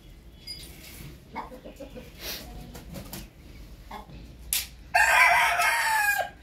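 Backyard chickens on a hot morning: hens cluck softly throughout, then a rooster lets out one loud, close crow that fills the last second and a half.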